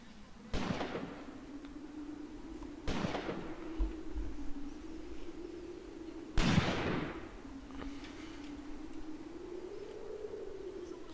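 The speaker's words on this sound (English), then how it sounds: "Really just trying to finish up this trench with pure artillery fire" Artillery fire in the war game Graviteam Tactics, with a trench under bombardment: three sharp booming blasts spaced a few seconds apart over a steady low engine-like drone.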